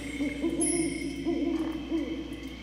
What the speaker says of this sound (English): It reminds me of Fiends and Fairies, that owl that was on the loading screen.